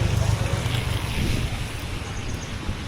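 A river swollen by heavy rain rushes past in a dense, steady roar of water that fills the whole stretch and fades slightly toward the end.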